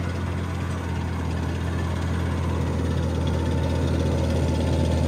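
A tractor laden with front suitcase weights labors across a wet Indiana field, its engine droning steady and loud with a low rumbling hum and vibration throughout, no voices over it.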